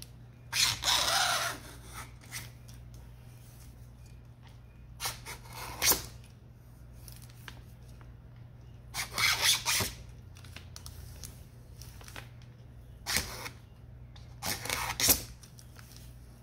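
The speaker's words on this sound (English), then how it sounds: "There, I might have to sand just a little bit." A cast piece for a customized toilet-themed item is hand-sanded in short bursts of scratchy rasping, five or six separate strokes spaced a few seconds apart over a low steady background hum.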